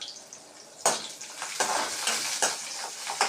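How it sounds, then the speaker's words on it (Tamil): Garlic frying until crisp in a pan for Maggi noodles, a close, crackling sizzle broken by repeated sharp scraping stirs of a spatula against the pan. "இவ்வளோ பூண்டு போட்டு நல்லா அதை ஃப்ரை பண்ணிடுங்க"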